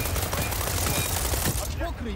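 Integral suppressed M416 rifle firing in the game World War 3, a rapid run of muffled, quiet shots under a dense battlefield din, with someone talking over it.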